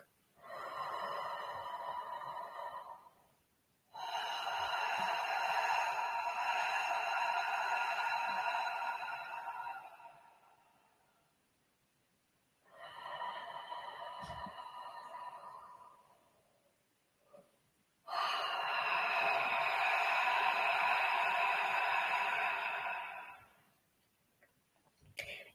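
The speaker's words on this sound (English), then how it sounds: "Just keep breathing through the open mouth." Long deep breaths drawn in and pushed out through an open mouth during a rebirthing session come in slow, even waves with short pauses between them, close and fairly soft.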